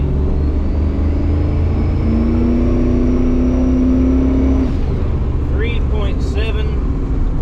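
Twin-turbo Dakota R/T pulling hard down a road, a loud continuous engine roar with a rising whine as boost builds, tone shifting near the end as the revs change.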